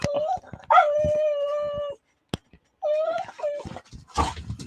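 A dog howls and whines in long, wavering, pitched tones, with a few brief gaps and short yips near the end, close and fairly loud.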